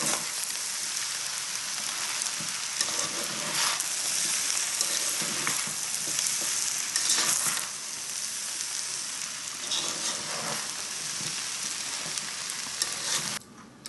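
Prawns, rice and soy sauce sizzle loudly in a hot frying pan, a dense continuous crackling hiss with occasional stirring scrapes, heard close with no voices.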